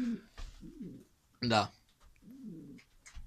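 Domestic pigeons coo in low, rolling bursts, a few times nearby, while someone talks over them and a sharper flutter or call breaks in midway.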